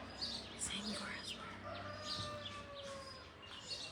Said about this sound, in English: Hear all the roosters.